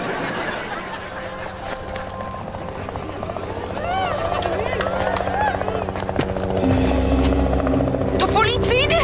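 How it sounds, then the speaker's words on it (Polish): A cartoon police helicopter drones overhead, its steady rotor buzz running under animated character voices and playful effects, growing louder near the end. "To policyjny helikopter?"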